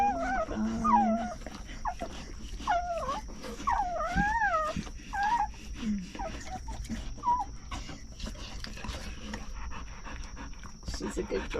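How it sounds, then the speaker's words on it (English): High, wavering whimpers and squeals from a newborn puppy, close by, repeated in short bursts with soft noises between. "This is a newborn puppy."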